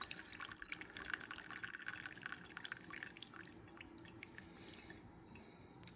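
Tea drips and trickles from a small strainer, spilling onto a computer desk: a faint, steady patter of fine droplets close by with no voices.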